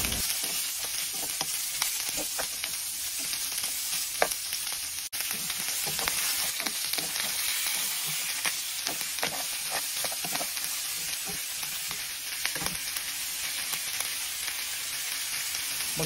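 Onion and garlic fry with browned pork in a pan, a steady dense sizzle that runs the whole time with light stirring scrapes scattered through it and no voices.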